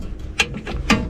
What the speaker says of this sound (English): I use my power ratchet because I can.